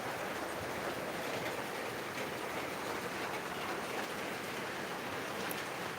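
Heavy rain pours down at night in Niamatpur, Naogaon, in a steady, dense hiss that holds without pause, soft and somewhat distant.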